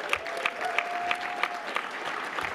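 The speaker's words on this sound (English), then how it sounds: "Can I get another round of applause for my grandpa?" An audience claps in a short, moderate round of applause, individual hand claps audible in a loose rhythm, with a faint steady tone running beneath the first half.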